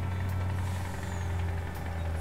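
Truck engine in Farming Simulator 19, a steady low droning idle with a faint mechanical rattle, close and continuous, with no speech.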